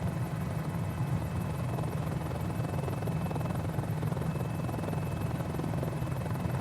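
Mini-500 helicopter cruising near 100 knots in a video game, a steady loud rotor and engine drone with a constant pulsing thrum that holds throughout, alone with no talk.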